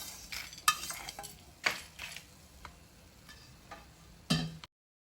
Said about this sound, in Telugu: మసాలా దినుసులు అన్నీ కూడా బాగా ఫ్రై అవుతున్నాయి.